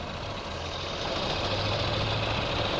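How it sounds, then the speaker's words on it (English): A car engine idles roughly with its oxygen sensor disconnected, a faint, uneven low rumble heard up close under steady background noise. "as soon as I disconnect this oxygen sensor, you can see the engine is shaking. it's not idling well."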